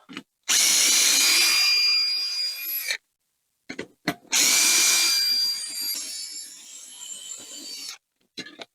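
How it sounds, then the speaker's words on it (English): A power drill removes seat bolts on a zero-turn mower, whirring in two long bursts of about two and a half and three and a half seconds, separated by brief pauses and clicks. "you can use an impact or a drill to speed things up"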